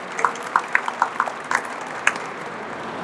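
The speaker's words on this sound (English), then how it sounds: "We got to give a round of applause for her now and when she comes up." Scattered, light handclaps from a modest crowd at a Culinary Union rally in Las Vegas, a handful of distinct claps over a quiet room tone rather than full applause.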